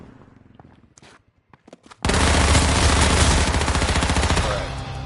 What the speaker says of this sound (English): He's getting sniped at.